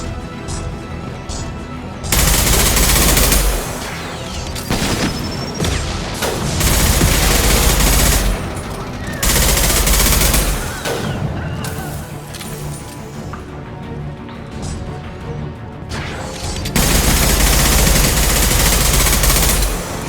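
Rifle fire in Mass Effect 2, loud sustained bursts of automatic shots with crashing impacts, arriving in several long volleys separated by brief lulls.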